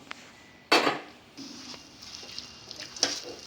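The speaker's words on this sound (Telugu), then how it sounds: "ఇందాక వేయించి పెట్టుకున్నాం కదా జీడిపప్పు బాదం పప్పు వాటిని ఇలాగ వేసేద్దాం" Fried cashews and almonds drop into Bombay halwa in a pan with a sharp clattering thud, followed by scattered light taps and spoon scrapes against the pan, with no one speaking.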